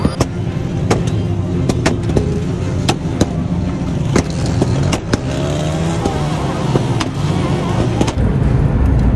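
A car driving on a road toward the border, a continuous close engine and tyre rumble inside the vehicle with scattered sharp knocks and rattles throughout.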